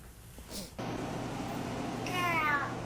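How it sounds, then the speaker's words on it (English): A cat lets out an odd, drawn-out vocalization that wavers in pitch, close to the microphone over a constant background hum. "This cat doesn't say meow. Hear what he says instead."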